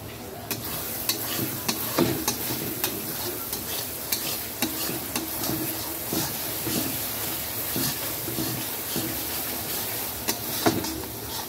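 Spice masala stir-fried in a pan for a light Bengali fish curry, a steady sizzle with repeated scraping and clinking of a spatula, close and fairly loud, with no voices.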